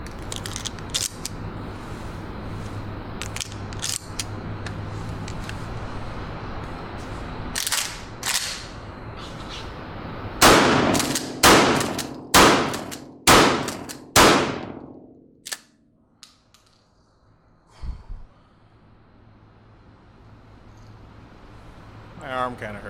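Winchester 1897 trench gun shotgun firing shells outdoors: a string of sharp, loud blasts, several in quick succession with short echoing tails, then a pause and a couple of fainter shots, with people talking between them.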